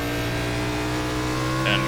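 A race car in an Xfinity Series racing game at Lucas Oil Indianapolis Raceway Park accelerates hard with a loud, steady, buzzing engine drone throughout, and commentary is heard over it.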